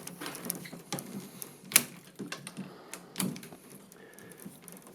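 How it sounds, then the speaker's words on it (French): Willow strands on a rectangular wicker log basket being snipped, with a few scattered clicks and rustles and one sharp cut standing out, close and moderately quiet against a soft background hiss. "donc je vais les couper tout de suite"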